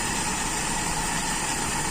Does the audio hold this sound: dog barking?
no